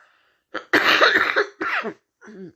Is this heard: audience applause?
no